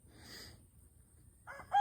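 Chickens cluck and squawk in short bursts, faint at first and then louder and closer near the end, with a quiet background between.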